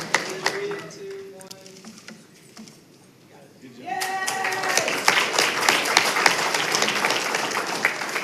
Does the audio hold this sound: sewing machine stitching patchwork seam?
no